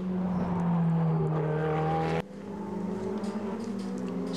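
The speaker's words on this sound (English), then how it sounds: "as the cars cross the timing line" Ferrari Challenge Europe race cars at the Budapest circuit, passing the timing line in a close pack, their engines a loud steady drone that shifts pitch abruptly partway through as the cars go by.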